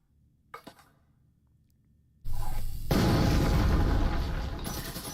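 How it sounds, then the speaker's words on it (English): Breaching foam detonating in the VR tactical shooter Breachers, a few faint clicks followed by a sudden loud blast that rolls into a sustained roaring, crumbling rush of debris. "Activates the camo, detonates the foam"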